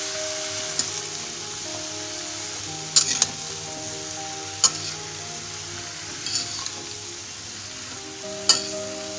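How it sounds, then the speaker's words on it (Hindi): Potatoes and beans stir-fry in a pan for a beans aloo masala, a steady close sizzle with a faint hum beneath and occasional sharp clinks of a spoon against the pan. "आलू को भी अच्छे से मिक्स कर लेंगे हम।"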